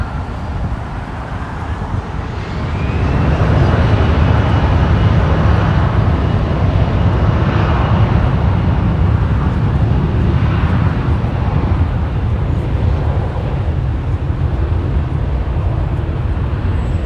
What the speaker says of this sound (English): We'll pan to this Delta connection just for a second.